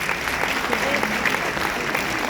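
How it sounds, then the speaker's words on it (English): An audience claps in a steady, dense patter of applause that fills the whole moment. "Please give him a round of applause."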